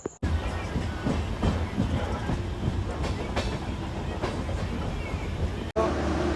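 A train rolls steadily on the rails with a continuous rumbling clatter and periodic clicks, loud and close as from inside a carriage, ending in a sudden cut.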